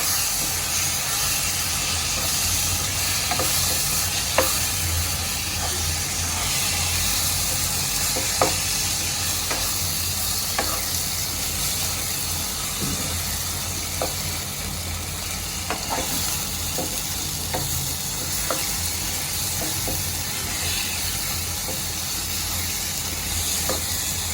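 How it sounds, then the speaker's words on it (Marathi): Eggplant bharit with salt and crushed peanuts sautéing in oil for a Khandeshi recipe, giving a steady close sizzle with a faint underlying hiss and occasional light stirring clicks, continuous throughout with no talk. "याला मी दहा मिनिटापर्यंत चांगलं तेलामध्ये परतून घेतेय"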